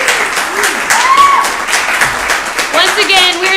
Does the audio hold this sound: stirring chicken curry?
no